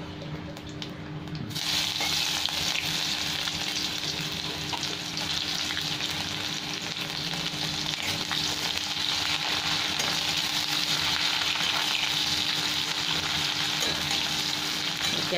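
Chopped onion fries in a pan with dried red chilli for Bengali dal, a loud continuous sizzle with occasional stirring throughout, close and without talk.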